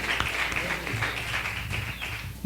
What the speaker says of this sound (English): Big round of applause for Natasha Muse and Kasim Bentley.